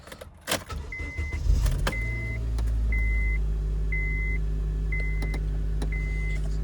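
A 2004 Honda Accord with a manual transmission starts up and settles into a steady idle as it warms. A low, constant engine hum runs throughout, with a few faint electronic beeps repeating about once a second over it.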